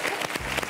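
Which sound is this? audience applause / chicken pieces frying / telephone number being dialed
audience applause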